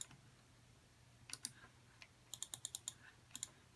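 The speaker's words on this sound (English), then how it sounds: "Guess I should have put these in order without all the clicking." Small plastic Rainbow Loom pieces click sharply as they are handled, in short irregular bursts of quick taps, close and fairly faint over a quiet background with no talking.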